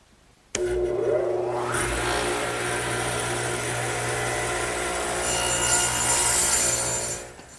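Radial arm saw angled 12.5 degrees cutting a wooden 2x4 armrest for a garden bench: a sharp motor start, then a loud, steady whining cut with a slight pitch rise midway, ending as the blade winds down.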